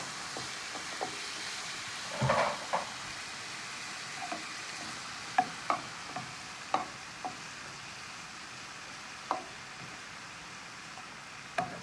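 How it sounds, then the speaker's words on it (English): Shrimp frying in a pan for shrimp and lobster Alfredo, a quiet steady sizzle with a burst of clatter and then irregular light taps and clicks as the pieces are turned. "we're going to flip those shrimp"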